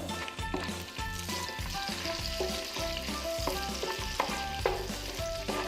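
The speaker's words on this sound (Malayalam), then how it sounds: "ബട്ടർ നന്നായിട്ട് മെൽട്ടായിട്ട് വരുമ്പോൾ ഇതിൻ്റെ കൂടെ ചെറിയൊരു പീസ് പട്ട, കുറച്ച് ഗ്രാമ്പു, ഏലക്ക ഇത്രയും കൂടി ചേർത്ത് കൊടുക്കാം." Cinnamon, cloves and cardamom fry in melted butter with bay leaves for chicken mandi, a loud, steady sizzle with rhythmic scraping strokes of a stirring spoon and no talking.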